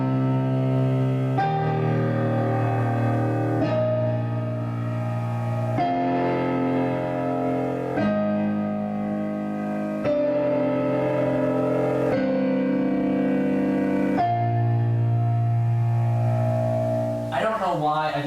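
Solo piano playing a section of a piece with a single sustained left-hand bass note under chords, steady and fairly loud with ringing sustain, no voice over it.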